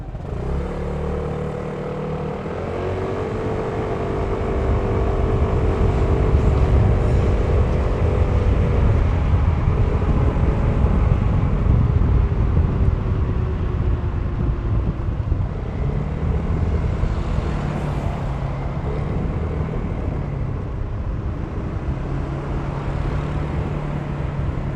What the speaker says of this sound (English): When you open the throttle, the exhaust note has a very distinct character. I'll let you listen to it right now.